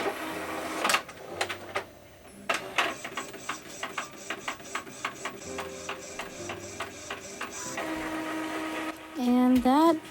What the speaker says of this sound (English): So first I'm doing a test print on regular copy paper.